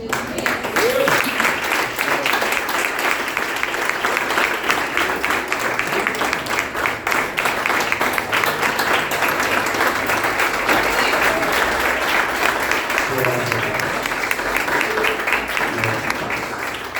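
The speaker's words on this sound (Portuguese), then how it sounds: "Se as palmas eram para mim, estava fraco. Se é para Jesus, estava pior ainda." Sustained applause from a congregation at a church youth service, steady dense clapping that fills the room for the whole stretch, with voices mixed in underneath.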